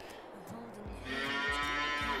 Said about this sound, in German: Was machen denn die Kühe?